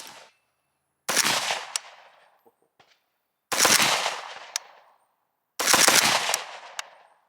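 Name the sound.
non-suppressed 5.56 AK rifle gunfire with muzzle brake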